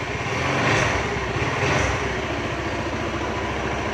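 A Kawasaki Rouser motorcycle engine idles steadily after a hard start, a close, even, continuous running drone with no voices.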